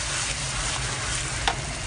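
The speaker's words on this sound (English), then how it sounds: "So you stir fry until it's dry." Rendang chili paste stir-fries in hot oil with a dense, even sizzle and crackle, plus a soft scrape of stirring, with no voices.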